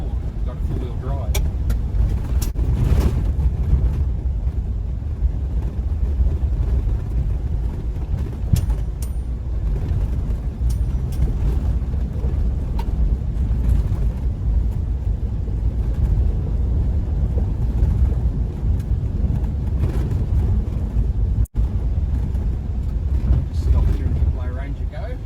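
A Toyota Prado four-wheel drive travels dirt roads near a state forest, its steady engine drone and rough road rumble filling the cabin. Occasional knocks and rattles break through, and people talk over the noise.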